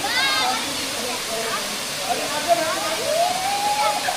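The Earmayi waterfall gives a steady, continuous rush of falling water that fills the whole stretch at an even level. Faint high chirping tones drift over it now and then.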